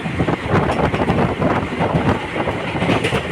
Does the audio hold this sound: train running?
yes